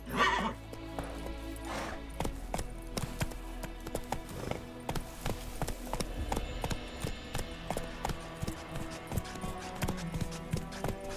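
A horse gallops in The Witcher 3, its clip-clopping hooves running steadily throughout with a whinny near the start, loud and close, over layered game music.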